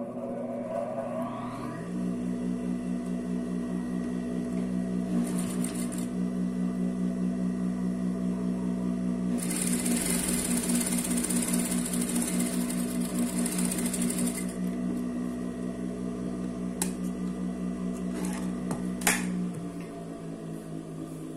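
A sewing machine runs steadily while stitching a French seam in fabric, a continuous close motor whir with a rapid needle rhythm, briefly rising louder in the middle before slowing near the end.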